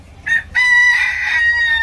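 A rooster crows loud and close: a short opening call, a brief pause, then one long sustained crow with no other sounds around it.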